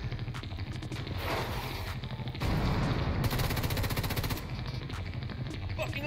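Grenade launcher and gunfire in The Division 2: rapid, rattling automatic bursts with sharp cracks, close and fairly loud over game noise, a dense rapid stretch in the middle.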